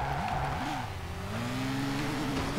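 A race car in DTM Race Driver screams along at around 300 km/h, its engine note steady and loud with slight pitch wavering throughout, no talk over it.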